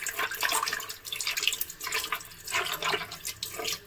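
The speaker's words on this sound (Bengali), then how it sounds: "আমি বেসিনে এখানে পাকার মধ্যে একটু ঘষে নিচ্ছি, তাহলে পরিষ্কার হয়ে যাবে শিঙি মাছটা।" Running tap water splashes into a sink while a singi catfish is rubbed and rinsed by hand, giving a close, continuous gush broken by uneven scrubbing bursts, with no talking.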